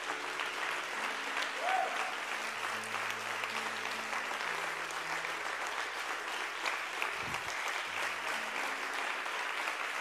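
Applause from a church congregation at a Mother's Day service, a dense, sustained wash of clapping that runs throughout at moderate distance, with a few voices and low murmurs mixed in.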